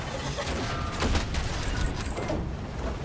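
Gunfire in the Battlefield 2042 video game during a tank battle, a dense, loud wash of rapid shots and booms over heavy rumble. It runs continuously for three seconds with no clear gaps.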